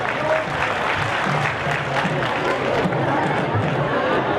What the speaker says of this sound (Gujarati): એકવાર અમિતભાઈ માટે જોરદાર તાળીઓ પડતી હતી